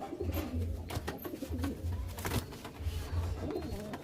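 Pigeons at a home loft, red and other fancy breeds, coo in a steady low throb with scattered sharper calls and rustles close by, continuous over several seconds.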